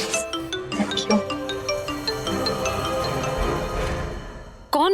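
A mobile phone rings with a repeating electronic ringtone melody, loud and continuous, in an indoor scene from a Hindi TV serial, with music and voices mixed in.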